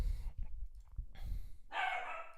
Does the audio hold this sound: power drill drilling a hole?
no